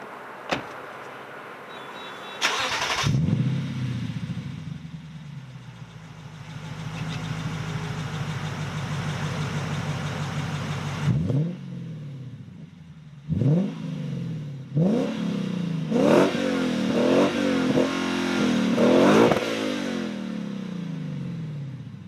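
Lexus GSF's 5-liter V8 with a louder-than-stock exhaust, starting up with a sharp bark, then settling into a steady idle before a run of repeated sharp revs that climb and fall, loud and close.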